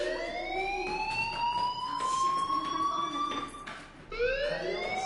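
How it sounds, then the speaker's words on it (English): Fire alarm in the PS4 game Life is Strange, a rising, wailing electronic siren tone that sweeps upward repeatedly, loud and alone, restarting after a brief dip near the end. "Hey, do you hear that fire alarm?"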